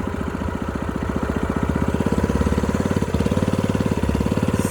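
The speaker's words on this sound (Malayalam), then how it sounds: "ഞങ്ങളുടെ കൊച്ചു തോട്ടിലേക്ക് ആദ്യ കുർബാനക്കാരൻ്റെ ബോട്ട് ഇതാ കയറുന്നു" A motor boat engine runs steadily as the boat enters a small canal, a loud, close, even chugging throb with no voices over it.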